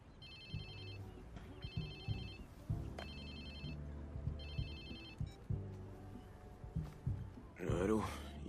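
A telephone rings repeatedly in a Watch Dogs 2 cutscene, its bright electronic trill sounding in regular bursts over a low background score, with a voice speaking near the end.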